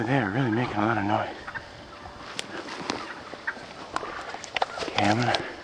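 Wild turkeys in a flock let out loud, warbling gobbles at the start and again near the end, with quieter rustling and clicks in between.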